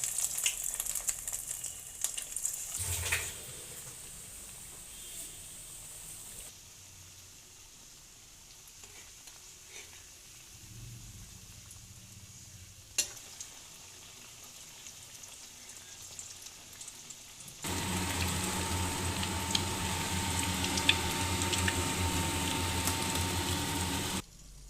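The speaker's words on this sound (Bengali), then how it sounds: "তেল গরম হয়ে গেছে, এবার এক এক করে দিয়ে দেবো।" Egg cutlets fry in hot oil, starting with faint crackling and soft stirring noises before a loud, dense, continuous sizzle takes over for the final stretch.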